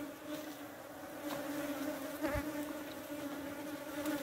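Bees buzz steadily around beehives during a hive check, a continuous close drone with individual insects passing near and away, heard alone without talk.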